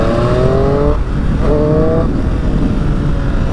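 A Triumph Speed Triple motorcycle engine revs close and loud, two rising revs each followed by a drop, over steady wind noise from riding.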